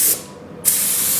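A spray gun hisses out thinned epoxy primer onto bare metal, two bursts of loud, close hissing separated by a brief pause.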